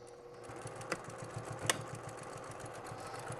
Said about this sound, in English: And right across and back stitching to secure it, lock it down.